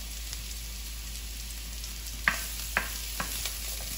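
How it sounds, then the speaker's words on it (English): Mushrooms sauté in hot oil in a pan for a red wine pot roast, a continuous soft sizzle broken by a few sharp utensil clinks and stirring scrapes near the end. "I would like to get the mushrooms sauteing"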